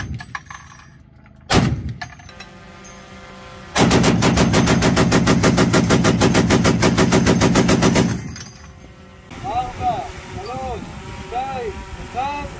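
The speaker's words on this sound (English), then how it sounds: "Not everybody needs a machine gun turret" The Optimus remote turret system fires a machine gun in one sustained, rapid burst of loud, evenly spaced shots lasting about four seconds, preceded by a single sharp bang and followed by ringing, clanging noise and a voice.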